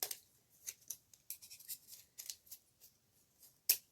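Scissors snipping apart small metal craft cutting dies, a quick run of separate close, crisp snips and clicks, sharp ones near the start and end, with no talk.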